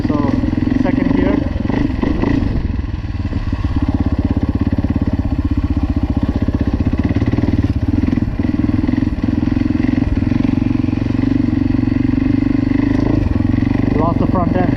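A dirt bike engine revs loud and close while riding in second gear on soft suspension, a steady rough drone with clattering and thumps from the terrain throughout.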